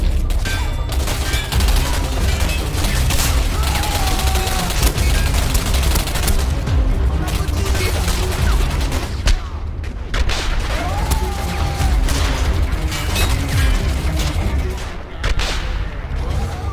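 Electromagnetic rifle firing explosive rounds in the video game Singularity: a dense, loud barrage of sharp gunfire bursts and booming blasts running continuously over about seventeen seconds.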